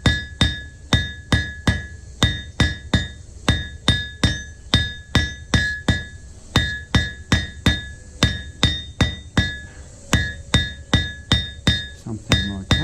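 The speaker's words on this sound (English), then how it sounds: "Now you just need to draw this out to a square taper." A blacksmith hammers hot metal on an anvil to draw it out into a fine square taper, a steady run of sharp ringing blows repeating about twice a second, close and loud, with no talk.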